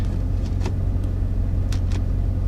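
Dodge Scat Pack car launching in first gear, in sport and manual mode with the ECM fuse pulled, giving a steady, heavy engine rumble with a deep low roar, close and continuous, with no voices.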